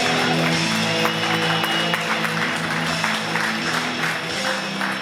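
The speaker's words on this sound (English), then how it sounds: "Give it up around him, guys. Let him hear it." A comedy club crowd in Tucson applauds in a dense, continuous wash of clapping that holds steady and fairly loud throughout.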